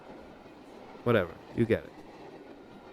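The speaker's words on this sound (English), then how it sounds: "oh my god, this fucking train" A passing train rumbles steadily in the background, a low continuous roar with faint rail noise, while a person speaks briefly over it.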